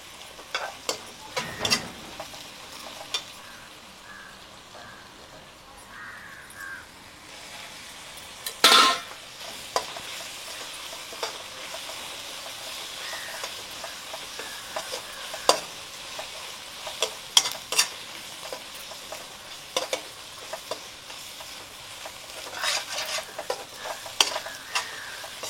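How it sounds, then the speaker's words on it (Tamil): Ginger and garlic sizzle steadily in a pan in a village kitchen, a continuous close frying hiss broken by occasional scraping stirs of a utensil against the pan, with no talking. "இப்போ இஞ்சி பூண்டு போட்டு அதோட வதக்கிப்போம்."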